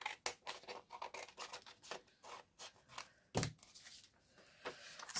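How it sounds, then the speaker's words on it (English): Scissors snip through paper from a craft kit in a quiet setting, a series of short crisp cuts and rustles of varying loudness, close to the listener, with no talking. "And I'm going to cut that off there at the bottom."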